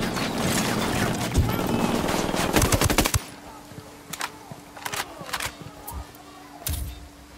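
Ghost Recon Wildlands video game gunfire: a loud rapid automatic burst for about three seconds, then scattered single shots and short bursts over a quieter background hum.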